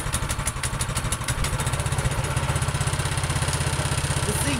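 A Troy-Bilt Storm Tracker 2690 XP snow thrower's small engine runs steadily just after a cold start, a close, even, rapid putter at idle with no talking.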